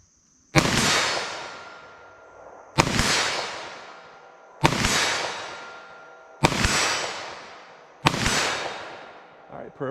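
Five loud, sharp 9mm gunshots from Xtreme Defender rounds fired through auto glass into ballistic gel, spaced about two seconds apart, each with a long ringing decay into the next shot.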